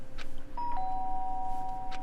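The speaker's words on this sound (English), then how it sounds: "The sharp sound of the doorbell pierced my sleepy haze and pulled me back to the real world." Doorbell chime in the video game Danganronpa, a clear electronic two-tone ding-dong ringing once over a low game background hum.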